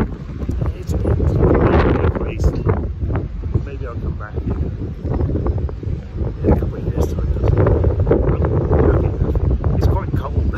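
Strong wind buffets the open deck of the P&O cruise ship Ventura, gusting in rough bursts against the microphone while a person talks over it.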